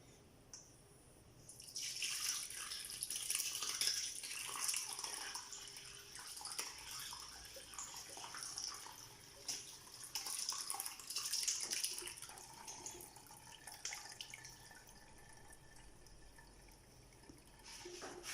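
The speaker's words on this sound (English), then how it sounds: "So now we need to let it drip all the way." Ricotta whey trickles and drips through cheesecloth set in a sieve, a soft, steady wet patter with small splashes. It starts after a quiet opening and continues unbroken, with no voices.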